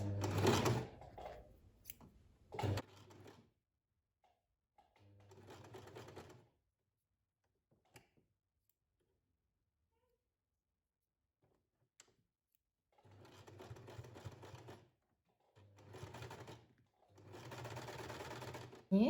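A sewing machine stitches a child's quilted jacket in several separate bursts of whirring, with pauses of near silence between runs; the machine sounds close and moderately loud.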